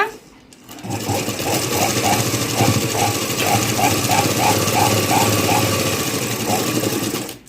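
A sewing machine stitches a blouse with a fast, steady mechanical chatter that runs loud and unbroken for several seconds, starting after a brief pause.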